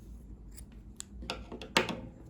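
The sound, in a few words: scissors cutting crochet yarn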